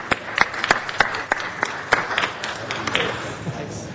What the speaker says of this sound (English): Let's give him a round of applause, Assembly Member Hector de la Torre.